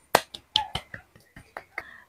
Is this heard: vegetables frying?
no